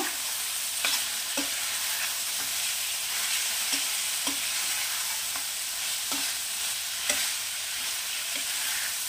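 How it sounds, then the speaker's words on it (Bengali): Chicken stir-frying in a pan with Kashmiri red chili powder, a steady dense sizzle punctuated by regular spatula scrapes and taps, close and unaccompanied by speech. "আর একটু ভাজা ভাজা করবো"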